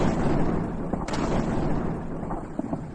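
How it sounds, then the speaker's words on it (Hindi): Artillery shells firing during intense wartime bombardment, captured in news footage: a continuous heavy rumble with one sharper boom a second in and scattered distant thuds later, no voices. "गोले दग रहे हैं"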